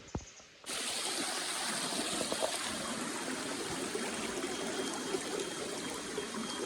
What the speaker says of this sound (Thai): หัวน้ำลำธาร